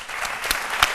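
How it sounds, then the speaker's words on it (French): Audience clapping for a band on a midday TV show, a dense, steady wash of applause throughout with a few louder individual claps standing out. "On doit les applaudir très fort pour ça."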